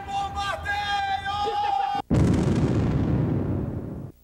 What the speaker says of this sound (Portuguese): Lá vem bombardeio!